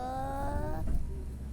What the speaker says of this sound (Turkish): Hadi kaç tane araba geliyor sayın.